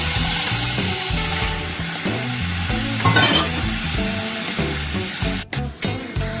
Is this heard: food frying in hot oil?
yes